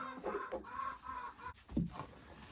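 Chickens cluck close by in a coop, a few short, throaty calls with a faint background hum and no talking.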